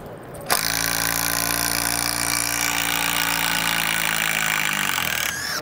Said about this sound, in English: So this is a two-speed impact.